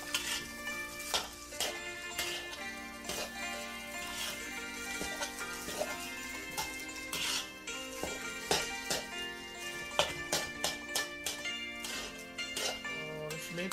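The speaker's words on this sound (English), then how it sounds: "Make sure you fry all the rice you put in the pan." Rice being stir-fried in a pan for Thai egg fried rice, with repeated metal spatula scrapes and clinks against the pan over a light sizzle, close and rhythmic throughout.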